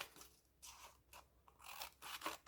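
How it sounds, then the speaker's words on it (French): Scissors snip through a paper square for a craft flower, several close, crisp crunching cuts in uneven bursts, quiet and alone. "Prendre le ciseau"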